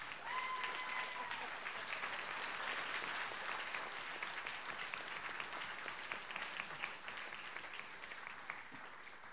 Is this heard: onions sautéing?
no